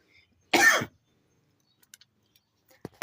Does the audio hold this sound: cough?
yes